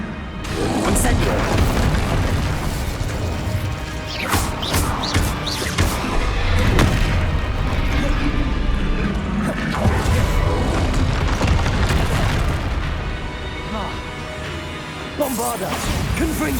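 Spells blowing up in Hogwarts Legacy combat: loud booming blasts and smashing impacts land one after another over a thick, constant battle din, close and forceful throughout.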